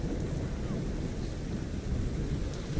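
Stormy evening weather in The Division 2 on Xbox Series X: steady, dense rain hiss with a low rolling thunder rumble that continues without a break, fairly loud and with no talking.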